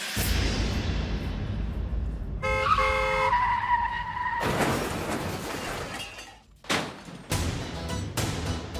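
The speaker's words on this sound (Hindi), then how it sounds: "आपने मेरी गाड़ी ठोक दी।" A car skids with a long tyre screech, then crashes into another car with a sharp impact and a shattering, thudding clatter, followed by a few more bangs, close and loud.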